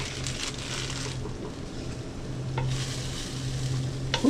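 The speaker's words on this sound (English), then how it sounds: "you can hear that stuff sizzling already" Soup ingredients sizzle steadily in a hot, preheated crock pot, a soft continuous crackle with occasional stirring clatter, heard alone without talk.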